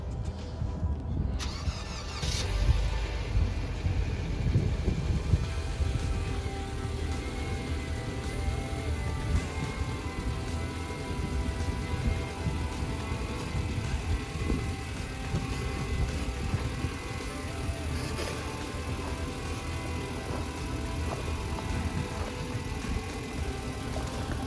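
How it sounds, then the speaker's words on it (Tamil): A car engine turns over in snow and catches, then settles into a steady low idle that rumbles on without pause. "இப்போ காரோட இன்ஜின் ஸ்டார்ட் ஆகணும்"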